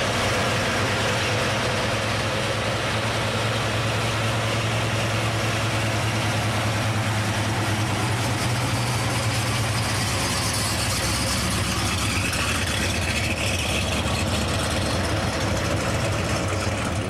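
A classic Chevrolet Camaro's engine runs steadily at close range, a continuous low rumble with a broad roar that swells slightly toward the end, with no talk over it.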